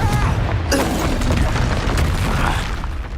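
A booming blast from the Confringo spell in Hogwarts Legacy, one loud explosive burst followed by a dense, rumbling roar that stays heavy across the whole stretch.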